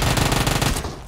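Uzi submachine gun firing in PUBG Mobile, a loud, dense full-auto burst with rapid evenly spaced shots that cuts off abruptly near the end, heard alone without talk.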